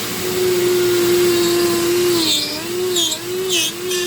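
A Dremel rotary tool fitted with a burr carves soft material for a fairy castle model, giving a steady, close high whine whose pitch dips and wavers as the bit bites in.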